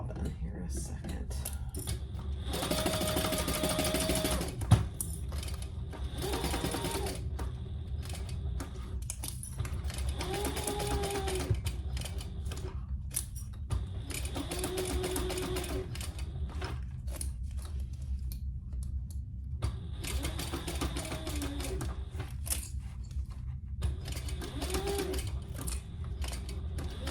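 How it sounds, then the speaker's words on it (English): A home sewing machine basting fabric for a retro-style sling, running in several bursts of rapid mechanical stitching separated by pauses, with a person talking in between. "let's baste that in place"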